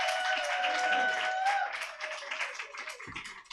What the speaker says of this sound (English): So start clapping, make some noise.